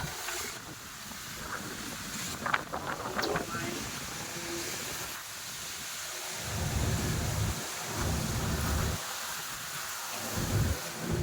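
Heavy rain during a hot summer storm, pouring steadily around a village home, with low rumbling bursts of thunder rolling in repeatedly in the second half; a voice speaks briefly early on.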